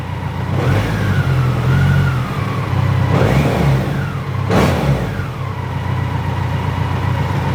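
A Grinnall Scorpion engine runs loud and close, its revs climbing and falling in a couple of throttle blips over a steady rumble.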